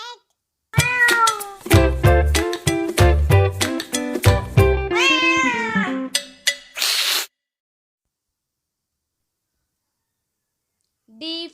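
A cartoon cat meows over and over in a quick run of bright, musical mews, loud and close, then drops into silence with only a short sound at the end.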